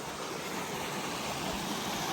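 Jacobs Creek on Michigan 26, flowing toward Eagle River and Eagle Harbor, rushes steadily as a broad, continuous wash of running water close by, with no voices.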